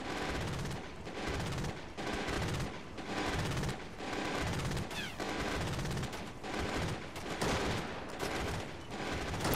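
Tanks firing in the PC game Tom Clancy's Ghost Recon: a dense series of loud booming bursts and rattling gunfire, one close on another, with little quiet between them.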